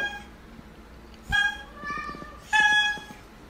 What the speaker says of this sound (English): His little meow is a honk.